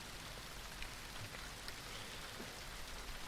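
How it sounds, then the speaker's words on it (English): Soft, steady rain patters down with scattered light drop ticks, a constant quiet wash with no voices. "all you can hear is a soft pitter-patter of raindrops"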